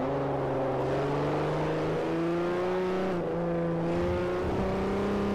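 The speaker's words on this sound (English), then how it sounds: "They're definitely cranking up the gain a little bit high on the exhaust to some of these cars." A race car in Forza Motorsport 4 drones with a loud, sustained exhaust note that climbs steadily in pitch as it revs through the gears, with brief dips at shifts, continuous and close, no talking.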